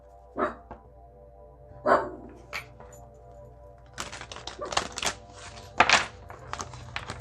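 A dog barks a few times, spaced apart at first, then a busier burst of sharp barks and knocks, fairly close.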